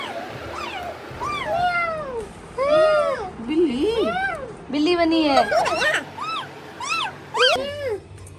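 A voice imitates a cat, producing a rapid series of rising and falling meows, loud and close, repeated throughout with short pauses between calls.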